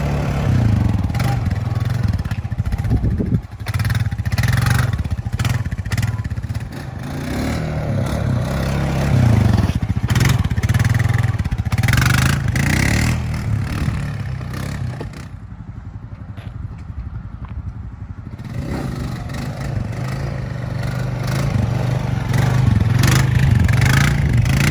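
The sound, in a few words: 2020 Honda Rancher ATV engine starting and revving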